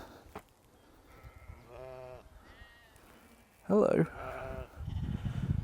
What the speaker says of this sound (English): Look at all the little lambs.